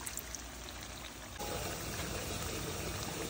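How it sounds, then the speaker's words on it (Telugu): Water poured into a pot of gongura mutton curry, a steady rushing pour that starts abruptly partway through and continues loud and close to the end. "ఇప్పుడు కొంచెం వాటర్ వేస్తున్నాను."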